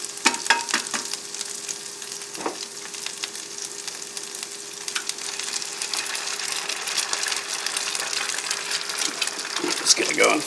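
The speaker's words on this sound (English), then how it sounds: "just going to crack the egg in" An egg cracked into a hot pan inside a tent while making shrimp fried rice, with a crisp sizzle and clicks of shell and utensil, a person talking over the frying.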